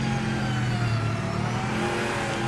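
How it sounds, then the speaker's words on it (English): A Corvette engine in a racing video game drones at a steady high pitch, loud and close, with slight swells in revs over a short stretch and no talking. "The sound of the Corvettes is fucking phenomenal."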